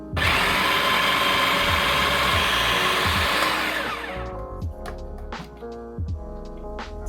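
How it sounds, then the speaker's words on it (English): A food processor whirs loudly and steadily as it blends basil pesto, then winds down to a lower motor hum with a few clunks and rattles of the bowl and blade. "Now we're going to start blending it in our food processor"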